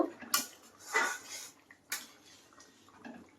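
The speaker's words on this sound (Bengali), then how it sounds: "আমি এই যে ঢাকনাটা খুললে নিলাম নিয়ে একটু ঘেটে দেব" A lid comes off a pot of boiling curry, then the curry is stirred: a few sharp metallic clanks and scrapes, close by and separated by quiet gaps, with no voices.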